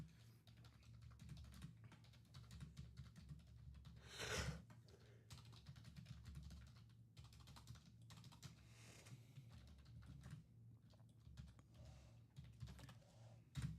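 Typing on a computer keyboard at a live trading card break: quiet, rapid, irregular key clicks in bursts with short pauses, and no talking.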